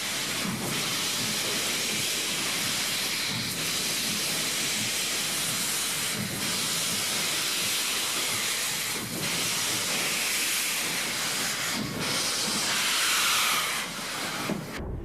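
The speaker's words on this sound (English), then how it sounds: "Pacific Daylight number 4449 departed the City of Roses with her perfectly matched orange and red concert." Southern Pacific 4449 Daylight steam locomotive departing Portland, a loud continuous roar of steam hiss and rushing exhaust with periodic chuffing surges and rail noise, sustained and close for the whole stretch.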